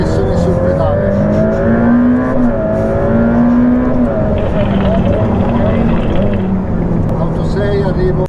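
A Ferrari F8 Tributo at speed on a race track, its loud engine note climbing and falling through gear changes, close up inside the cabin, with people talking over it.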